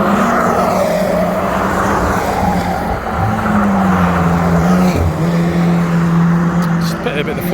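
Stock cars race around a foggy Cowdenbeath track in Scotland, some running full road-going silencers, their engines droning loud and continuous with rising and falling pitch as they pass, along with voices in the background.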